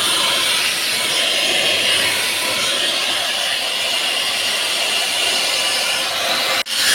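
A Parkside carpet spray extractor vacuum running continuously, a loud close rushing suction hiss with water spraying, holding steady throughout before a brief dip and cutoff near the end.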